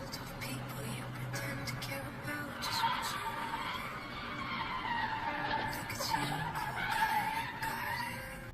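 Car tires skid and squeal faintly in the distance from brake lockup, likely with metal-on-metal front brakes and non-working ABS, a long smeared screech that rises and falls over several seconds against road noise.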